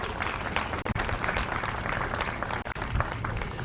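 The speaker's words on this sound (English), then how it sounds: "Please give them all a round of applause, please." A round of applause from the audience at a veterans' appreciation ceremony, a continuous broad wash of clapping, moderately loud and steady with a couple of brief dips.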